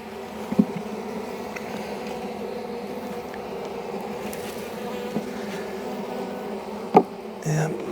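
Honeybees buzzing steadily around a hive on a January day, a continuous dense hum with a few individual bees passing close, and people talking briefly near the end.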